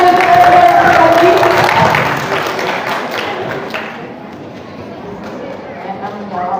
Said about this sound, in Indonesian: kita berikan tepuk tangan untuk Abi.